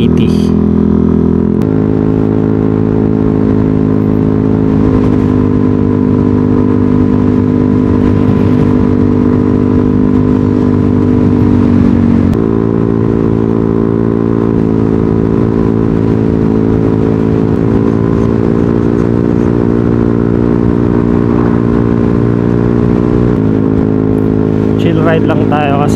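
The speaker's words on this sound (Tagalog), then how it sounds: "Ride lang tayo kasi di ba naman natin masyadong gamay itong motor eh." A Yamaha Aerox V3 motor scooter runs with a steady, loud engine drone and shifting harmonic tones through most of the ride, with brief changes in pitch as it varies speed. Someone talks over the engine throughout.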